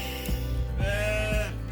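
Sheep ewes bleating in a lambing barn, several close, wavering calls overlapping one another across a short stretch above a low background hum.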